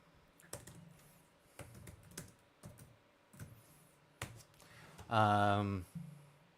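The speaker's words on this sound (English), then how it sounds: "I'm sure you guys heard me hitting my keyboard" A computer keyboard being struck in a handful of sharp, separate clacks spread over several seconds, close and fairly quiet, with a brief voiced sound partway through.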